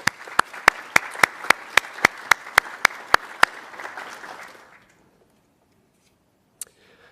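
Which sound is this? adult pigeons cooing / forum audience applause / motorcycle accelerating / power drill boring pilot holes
forum audience applause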